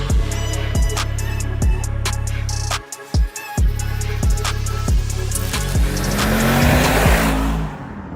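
A Mercedes-AMG G 63 launches hard off the line, its engine climbing through several rapid upshifts in a loud, close run, each gear rising in pitch before the next shift, with a brief gap as it grips and surges away.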